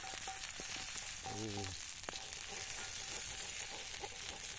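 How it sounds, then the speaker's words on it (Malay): A spice mixture and water are stirred in a cooking pan, a continuous sizzling, bubbling wash with brief scraping strokes of the utensil against the pan. "Aduk-aduk dulu ya."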